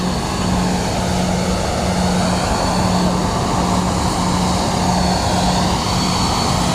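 A Ryanair airliner at London Luton Airport gives a steady, loud, broadband engine roar with a low droning hum, continuous and unbroken throughout with no voices.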